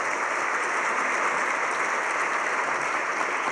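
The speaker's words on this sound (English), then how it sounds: "give Yishan another round of applause" An audience at a conference session applauds a presenter with a steady, even wash of clapping from many hands. It holds at a constant level throughout, with no talk over it.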